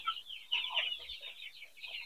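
Chickens cluck continuously in a semi-closed poultry house, a bright chatter of overlapping calls at moderate distance, fairly quiet with no talking.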